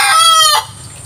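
A rooster crows loudly and close, a single harmonic call lasting about half a second that breaks off into quiet farmyard background.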